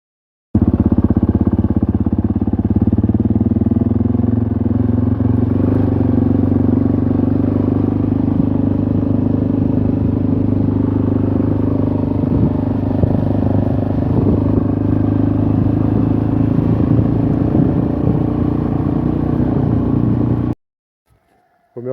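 A Suzuki DRZ motorcycle rides after being reassembled, its single-cylinder engine droning steadily and loudly with a rough, clattery rumble and mild shifts in revs, then cutting out abruptly near the end.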